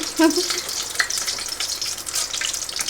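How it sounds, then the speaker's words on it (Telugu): Tempering spices frying in hot oil for an egg curry, a steady close sizzle and crackle with a few brief pops near the start, running alone without talk. "ఫస్ట్ ఆయిల్ అయితే పోసేస్తున్నాను తాలింపులు"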